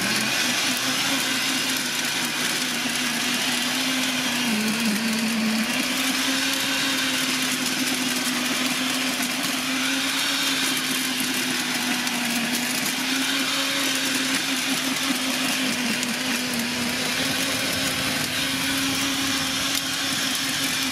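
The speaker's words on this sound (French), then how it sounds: "Moto bineuse de 1400 watts," A 1400-watt electric tiller runs on a 25-metre extension cord from a maXpeedingrods inverter generator in economy mode, giving a steady, continuous motor whine with a constant hum underneath for about twenty seconds, with no talking.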